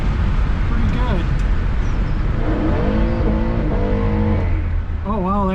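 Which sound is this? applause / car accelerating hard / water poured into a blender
car accelerating hard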